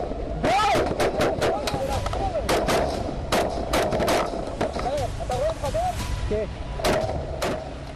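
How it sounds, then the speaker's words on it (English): Tank shelling in northern Gaza booms out in a rapid series of sharp, loud blasts and cracks, scattered irregularly across the moment, with voices audible underneath. "There's definitely tank shelling coming from that direction."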